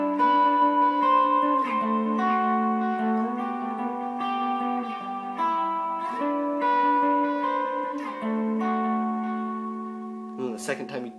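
An electric guitar plays a lead line of sustained, bending notes moving between chord shapes, clean and close, ending with a brief strum.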